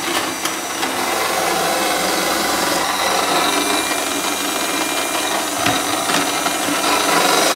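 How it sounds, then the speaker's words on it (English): A mechanical grater shreds potatoes for draniki, Ukrainian potato pancakes, giving a loud, continuous rasping whir that holds steady for the whole stretch with no talking. "we've finished mincing or grinding our, grating our potato"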